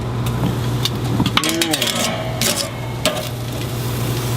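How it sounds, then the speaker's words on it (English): Korean BBQ beef ribs are flipped on a grill after the lid is popped open, with a sizzling hiss, scraping tong clatter and a steady low hum running through the short stretch. "I'm going to go ahead and pop this open and give these ribs a flip"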